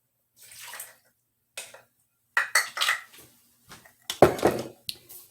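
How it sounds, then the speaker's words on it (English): Half a cup of milk poured into brown sugar in a pan for fudge, heard as a few close splashing bursts with handling clatter between them and quiet gaps, no voices. "I'm going to add my 1/2 cup of milk, if I can do so without spilling it."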